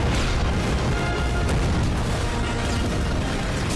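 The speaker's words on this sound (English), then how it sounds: "And it's firework, it's beautiful." Fireworks going off in a film scene, a dense, continuous wash of booms, crackles and bursts at high volume with no gaps, heard alone without voices.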